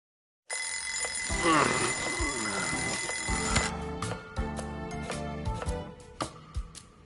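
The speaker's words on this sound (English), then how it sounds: "Wow, I even moved the alarm and everything. Turning it off in your sleep is a talent." An alarm clock rings in the game Lost Judgment, a loud bright metallic bell ring that starts suddenly and continues before breaking into clatter and scattered knocks as it is shut off.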